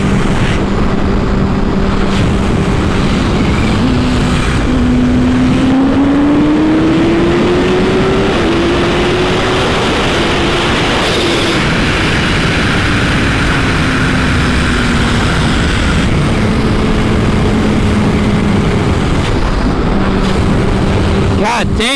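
A Kawasaki H2 motorcycle engine drones on an open highway, a steady rising and falling engine tone beneath strong wind rush, loud and constant from a rider's position.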